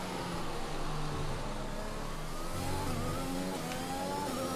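An F1 car accelerating around Monaco in the F1 2021 video game gives a continuous engine whine that climbs steadily in pitch, at moderate level, with no talking.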